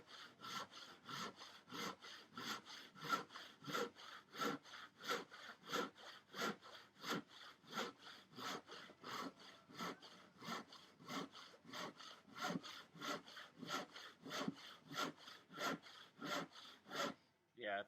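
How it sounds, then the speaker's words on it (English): A sharp hand saw cuts through a wooden workbench top in a steady back-and-forth rhythm, with dozens of rasping strokes in a row. It is faint but clear, with no voices. "if this saw wasn't sharp, it wouldn't be doing what you see"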